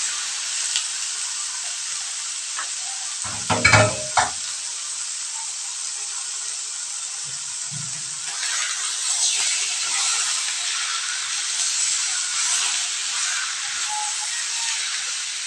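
Tuna innards, seasoned with pepper and salt, sizzle and hiss steadily in a hot pan, a continuous close frying crackle with a couple of brief clanks and low thumps early on.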